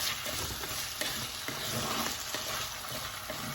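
Kerala-style chicken stew being stirred with spices in a sizzling pan, a steady frying hiss with soft scraping strokes of the spoon repeating throughout, close and continuous, no voices.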